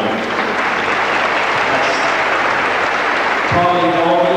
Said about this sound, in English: how about a nice round of applause for the girls who are assisting with the care of the court this afternoon